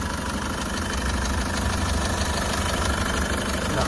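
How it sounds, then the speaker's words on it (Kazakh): A 2018 SsangYong Rexton Sports diesel engine idling, a steady, loud, close mechanical rumble with a faint knocking texture, running evenly with no voices. "Экети дизельный мотор."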